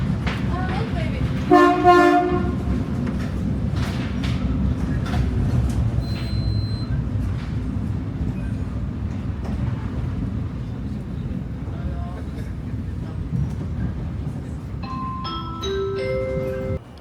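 The Seattle monorail sits in its station with a steady low rumble of the train throughout, a short tooting horn or chime early on, and brief electronic tones near the end, while people talk faintly nearby.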